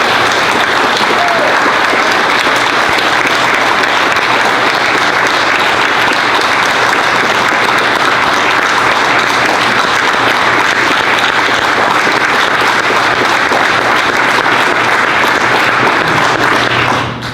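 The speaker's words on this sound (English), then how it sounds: "these are the guys who deserve the largest round of applause" A large audience applauds Danish veterans at an event on Denmark as America's smallest and biggest ally, a loud, sustained wash of many hands clapping evenly throughout before trailing off at the very end.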